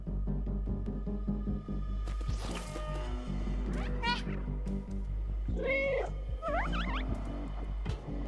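A cat meows in the video game Stray: several short, rising meows near the middle and end over a constant low background drone, with scattered thumps and scuffles in between.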